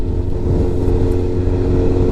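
Steady, loud drone of a 2004 Suzuki GSX-R 600 sport motorcycle engine idling nearby, a smooth low rumble with no talking.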